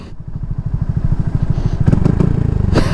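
A motorcycle engine near the beach, loud and close, its rapid pulsing thump building steadily as it revs, with a brief clatter near the end.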